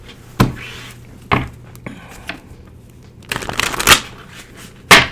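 Tarot cards are shuffled in several sharp riffling bursts, close and crisp, separated by short pauses and quieter handling between them.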